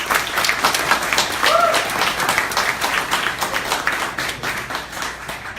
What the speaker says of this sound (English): do a round of applause and thank all of you that have submitted some of your great work